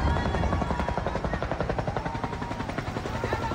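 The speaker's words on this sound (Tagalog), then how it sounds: "Nagbuhos na ng tubig mula sa helikopter para maapula ang malaking sunog sa mga bahay" A firefighting helicopter drops water on a large house fire in Tondo, Manila, its rotor chopping in fast, steady, loud pulses throughout the short stretch with no voices.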